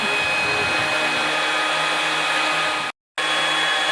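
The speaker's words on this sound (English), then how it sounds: "Now he's got this machine. It'll just cut him out a countertop as he needs it." A CNC machine cuts a granite countertop in a stone shop with a steady, loud, hissing whine that drops out briefly for a moment before resuming.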